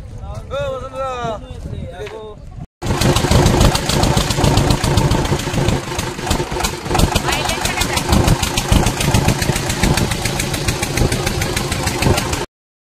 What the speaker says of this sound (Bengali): তো এখন আমরা নৌকায় চড়বো, নৌকাটা থেকে এখন আমরা ওই পারে যাবো